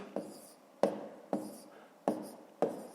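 Pen writing numbers on paper for a column multiplication, five short scratchy strokes spaced about half a second apart, close and quiet, with no voice.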